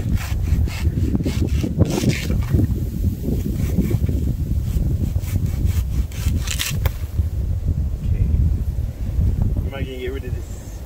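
A tree being cut down with a hand saw: repeated rasping strokes through wood, close and loud, with wind buffeting the microphone and voices talking now and then.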